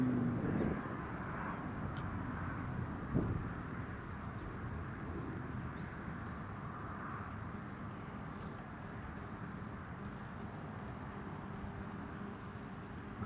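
Airbus A380 at Newcastle International Airport giving off a sustained, moderately distant engine roar and whine that stays steady throughout, with a couple of faint clicks and no talking.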